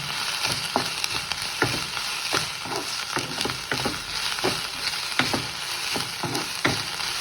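Vegetables for a chicken samosa filling are sautéed in a hot pan, sizzling steadily up close while frequent spoon strokes scrape and knock against the pan in an uneven rhythm.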